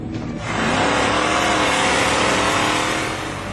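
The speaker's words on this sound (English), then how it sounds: "The Gimli landing strip has been converted into a drag racing strip." Race cars on a converted airfield drag strip roar loudly and steadily, a continuous close engine howl that swells in and holds for several seconds before easing slightly, with no talking.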